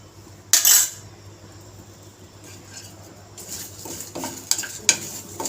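Cumin seeds and curry leaves hit hot oil in a pan for a bottle gourd curry, giving a sharp burst of sizzle followed by scattered spoon scrapes and clinks against the pan, with no talking.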